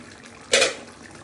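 Liquid poured from a pan or pot while cooking a Bengali steamed hilsa fish dish with eggplant, one short splashing burst of about a quarter second standing out over a quiet kitchen background.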